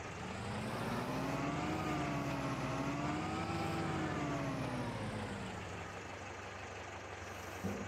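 Steady, droning tractor engine in Farming Simulator 22, holding a continuous low hum with slowly shifting pitch as it revs, loud and close with no talking.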